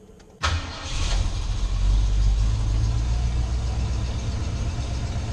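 An early Ford Bronco's engine cranks and catches with a sudden burst, then settles into a loud, steady, rumbling idle close by.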